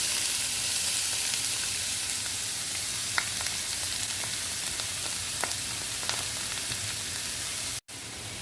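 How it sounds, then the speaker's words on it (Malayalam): Chopped onion, ginger, garlic, green chili and curry leaves crackle and sizzle in hot coconut oil in a home kitchen while tuna ularthiyathu is being made, giving a steady, close, dense hiss with small pops and brief stirring scrapes. "ഇപ്പോൾ വെളിച്ചെണ്ണയൊക്കെ ഒന്ന് ചൂടായിട്ട് വന്നിട്ടുണ്ട്. ഈ ഒരു സമയത്ത് നമുക്കിതിലേക്ക് നമ്മൾ അരിഞ്ഞ് വെച്ചിരിക്കുന്ന സബോളയും ഇഞ്ചിയും വെളുത്തുള്ളി പച്ചമുളക് വേപ്പില ഇതെല്ലാം ചേർത്ത് കൊടുക്കാം."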